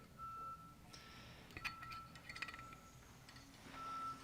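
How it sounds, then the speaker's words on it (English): A big truck reversing outside, its repeated backup beeps sounding at a steady pitch at moderate distance, with clinks and faint background noise in between. "Whoa, there's a big truck outside."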